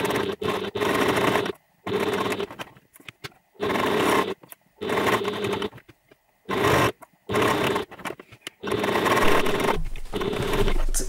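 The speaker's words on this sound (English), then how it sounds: "And then I'm going to stitch around the entire square, straight down." A sewing machine stitches the lining of a crossbody bag in several short, close bursts of buzzing motor and needle chatter, separated by brief pauses with near silence between runs.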